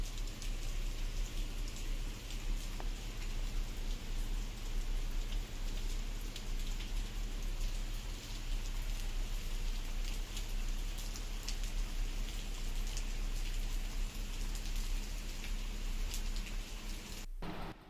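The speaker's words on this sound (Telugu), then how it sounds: "ఇప్పుడు వర్షం స్టార్ట్ అయింది" Morning rain falling outdoors makes a steady, dense hiss of drops that stays even and continuous throughout, with no speech.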